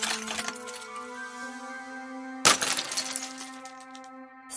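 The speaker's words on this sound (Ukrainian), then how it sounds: "Бурулька, що впала." A falling icicle shatters with one sudden bright glassy crash midway, the break trailing into tinkling, ringing overtones that linger and fade, with a sustained ringing tone carrying through before and after.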